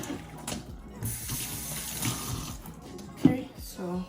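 Water poured off a large pot of yam porridge, an uneven splashing and running flow at moderate distance with a sharper splash near the end.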